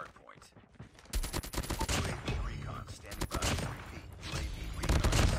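Rapid gunfire bursts from a Call of Duty style shooter during a close Hardpoint match, loud and sustained with dense automatic fire and scattered shots, a player's voice talking over parts of it.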